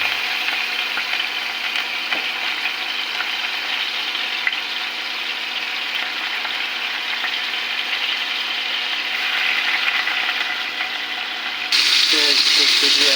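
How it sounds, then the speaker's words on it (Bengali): Chopped onions frying in hot oil while being stirred, a loud continuous dense sizzle that holds steady, then shifts near the end as the pan is worked. "পেঁয়াজ কুচি দিয়ে আমি এভাবে নাড়তে থাকবো 1 মিনিট পর্যন্ত"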